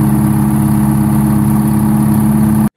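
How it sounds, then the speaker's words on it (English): A Detroit Diesel 8V71 diesel engine runs steadily at close range, a loud continuous low drone with a pulsing rumble throughout, alone without voices until it cuts off abruptly. "Picture a diesel engine so distinctive that its sound alone could identify it from blocks away."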